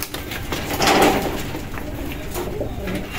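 Racing pigeons in a loft cooing softly, a low murmuring coo that swells briefly near the start and then settles into a steady background, with faint talk nearby.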